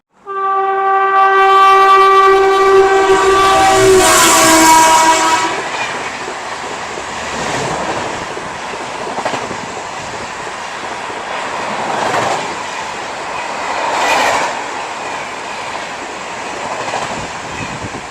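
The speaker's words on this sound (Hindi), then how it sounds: "तो चलिए मैं आपको दिखाता हूँ जीआरटी एक्सप्रेस ट्रेन का ओवरटेक पंजाब मेल के द्वारा।" Punjab Mail passenger train overtaking the GRT Express, opening with a loud, sustained multi-tone horn blast for about five seconds, then a steady rolling clatter of wheels and coaches rushing past close by.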